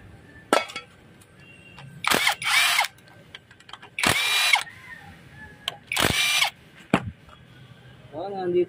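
Hand and power tools work on a damaged motor stator during disassembly: several loud, separate bursts of drilling or grinding, each lasting about a second, separated by clanks and scraping, with a short squeak near the end.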